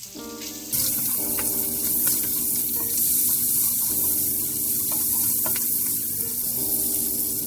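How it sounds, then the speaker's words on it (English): Sausages sear in a hot pan with a steady, loud sizzle and crackle that holds throughout, with occasional soft clinks of a utensil against the pan and no talking. "Now I'm just gonna let these sausages sear for about 5 minutes or until they got a little crisp on them."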